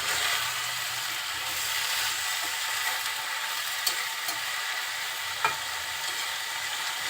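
Malabar spinach being stirred as it fries in a pan with spices, a steady close sizzle with occasional spatula scrapes and clicks, continuous throughout with no talk.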